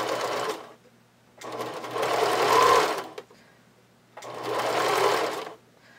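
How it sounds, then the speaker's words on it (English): A domestic sewing machine zigzag-stitches elastic onto fabric in three bursts of rapid, steady whirring, each lasting a second or two, with short quiet gaps between them. "I like to kind of baste it on with my sewing machine first and then serge over top"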